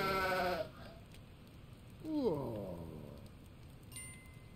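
Sheep in the video game Stubbs the Zombie give two clear, wavering bleats, one at the start and a louder one midway, over a soft rainy game backdrop.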